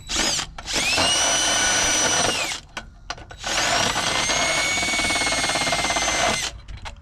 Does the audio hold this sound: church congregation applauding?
no